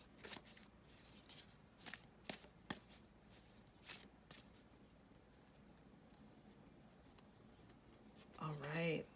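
Oracle cards shuffled for a tarot reading, a run of quiet irregular riffles and taps, then a short burst of speech at the end.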